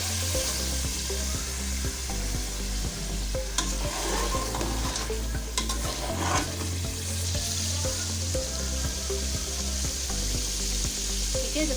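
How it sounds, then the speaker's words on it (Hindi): Meat and potatoes frying in a pot, with a continuous loud sizzle and repeated scraping stirs of a spoon against the metal running throughout, close and without speech. "बस अब मैं इसको क्या करूँगी, 5 मिनट के लिए इसको अच्छे से भून लूँगी।"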